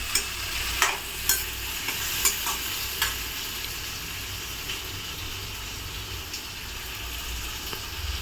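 Potato and tomato sauté in a hot pan, with a few scraping stirs of a spoon at the start, then a steady sizzling hiss that carries on alone.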